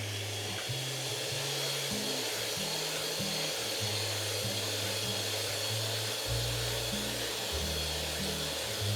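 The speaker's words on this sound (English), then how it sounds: "First, we will mix cream." Electric mixer whipping cream for homemade ice cream, a steady close motor whir with shifting pitch as the beaters work, continuous throughout with no talk.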